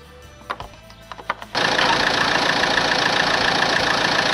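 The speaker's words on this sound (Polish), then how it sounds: "silnik popracował sobie czy nawet tam więcej jak 10 minut na wolnych obrotach" A Fiat Croma II with a JTD Multijet diesel engine idles after a few quiet knocks, settling into a loud, steady, even rumble with a faint high whine that continues unbroken to the end.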